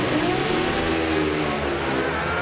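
A Pro Stock drag motorcycle roars off the start at a mile-high nationals event, a loud sustained high-revving engine wail, close and continuous under crowd noise.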